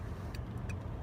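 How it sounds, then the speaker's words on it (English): Cars driving on a road through farmland, heard as a steady, close low rumble of road and engine noise with a couple of faint, brief high ticks. "So many cars."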